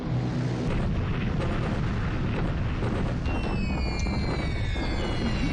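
Dull booming explosions roll continuously in the War in the Pacific game, a loud rumbling barrage with a faint high whistling tone toward the end and no voices.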